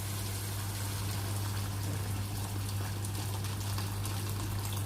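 Boiling water being poured over browned meat in a cooking pot, heard as a steady, close pouring and gushing hiss that continues without a break over a constant low hum.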